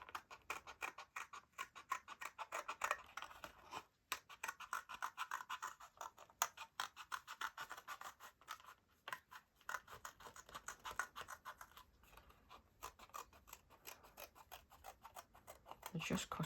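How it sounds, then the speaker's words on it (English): Scissors snipping around a paper circle, quick repeated crisp cuts in an uneven rhythm, close but soft, continuing with only brief pauses. "Just cutting out the circle"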